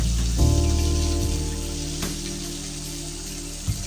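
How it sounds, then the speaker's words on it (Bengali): Fish fries in hot oil with a soft, steady sizzle close by, joined by a low humming tone and a couple of light knocks. "আর মাছ ভাজা এই যে শেষের দিকে"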